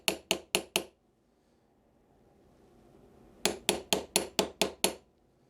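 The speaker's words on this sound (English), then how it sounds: "take a hammer or a mallet and strike it" A hammer strikes an angle iron set on a new Japanese chisel in sharp metallic taps, four quick blows, a pause, then a steady run of seven more, close and ringing in a quiet room.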